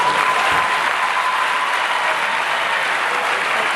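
A large audience at a 2014 stand-up comedy concert claps loudly and steadily. The dense applause carries on without a break, and no voices can be heard.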